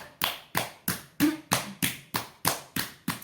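Hands clapping during a hand-clapping exercise, about nine sharp, evenly spaced claps in a steady rhythm, close and clear with no talking.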